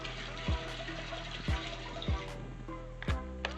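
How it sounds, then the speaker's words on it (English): Non-chlorinated spring water is poured into a container of washed brewing yeast, giving a liquid splash and fill with a few distinct glugs and drops at irregular intervals, fairly quiet. "I'm gonna add more water into it."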